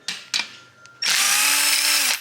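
Power tool, likely an impact or electric drill, backing out bolts from the rear cover of a BMW E36 differential: a few short bursts, then one sustained loud, steady whirring run of about a second, up close.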